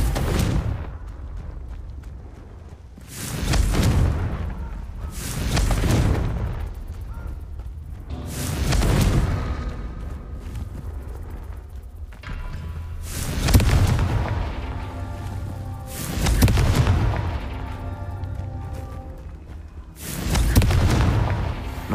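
Repeated fire-spell blasts from combat in Hogwarts Legacy, about eight loud booming explosions at irregular intervals a few seconds apart, each with a sharp attack and rumbling decay, with no talking between them.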